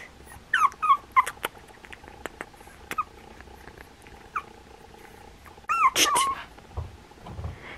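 A tiny half-pound teacup chihuahua puppy lets out several high, thin whimpers and squeaks in short bursts, close and clear, with a longer cluster of whines near the end and soft handling noises between.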